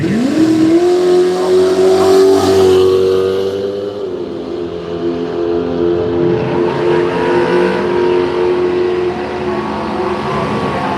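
Drag race run at Willowbank Raceway pitting a Ute against a BMW, with loud engines roaring and rising in pitch through hard acceleration, a shift break midway, then a sustained high-revving drone as the cars charge off.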